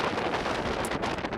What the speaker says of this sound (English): That's wind in the background. It can be pretty windy.